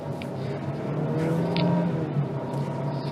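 A 2021 Kia Stonic budget subcompact crossover with a manual-mode transmission accelerates hard through fast upshifts and downshifts, its engine droning steadily and close with a shifting pitch and no pauses.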